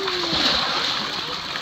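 Water splashing in an outdoor swimming pool on a hot day, a steady broadband wash of splashes and sloshing with faint voices in the background.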